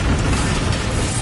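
The Bombarda blasting spell in Hogwarts Legacy goes off as a dense, loud burst of noise that fills the whole short moment without a break, close up and with no voice over it.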